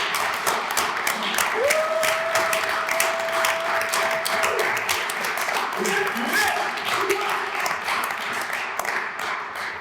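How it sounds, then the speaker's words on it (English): Panel discussion audience clapping for themselves, a steady patter of many hands with voices talking and a whistle-like tone rising over it. "Put them together, give yourself a round of applause."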